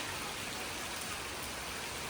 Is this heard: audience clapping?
no